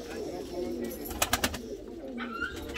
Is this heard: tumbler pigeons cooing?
yes